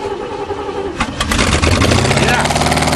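An old engine cold-starts after priming without choke, cranking for about a second before catching and settling into a loud, close, rough running roar.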